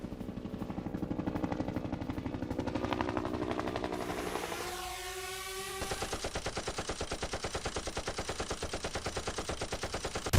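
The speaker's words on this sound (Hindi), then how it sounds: "राजस्थान के महाजन फायरिंग रेंज में दिखाई ताकत" Rapid automatic gunfire during a military exercise at the Mahajan field firing range in Rajasthan, a dense regular burst of shots that softens midway and then resumes as a steady rattling stream, fairly faint.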